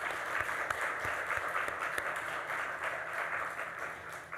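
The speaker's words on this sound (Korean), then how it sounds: "우리 박수로 환영해 주겠습니다" A church congregation at a Sunday morning service in a Korean church in Chile claps in welcome for a guest, a sustained wash of moderate applause with scattered louder claps, alone without voices.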